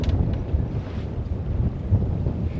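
Steady wind rush and choppy water slapping a sailboat's hull while sailing off the Cranberry Islands near Southwest Harbor, Maine, with a continuous low roar and occasional louder gusts, no talking.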